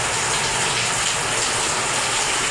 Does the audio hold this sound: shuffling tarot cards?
no